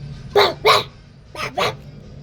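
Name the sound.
person imitating a dog barking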